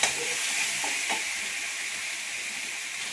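Cumin, ginger, garlic and green chili paste sautéing in oil in a pan, a steady bright hiss and sizzle that holds evenly throughout, fairly close and without any voices.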